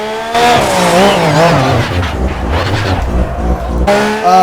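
A Mazda MX-5 drifting in the racing game Project Cars, its engine revving loudly with shifting pitch as the tires squeal and skid through the slide, close and continuous, with no talking.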